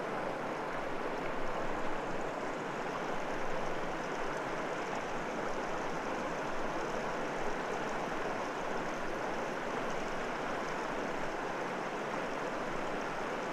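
Flowing water of the Linville River, a continuous broadband rush that stays steady and moderately soft with no voices over it.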